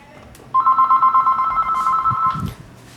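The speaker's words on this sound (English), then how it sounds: "oh, there's my phone" A phone rings loud and close in a steady pulsing electronic trill lasting about two seconds, set in a printmaking studio while a demonstration on intaglio printing is under way; a short bump of movement comes near the end.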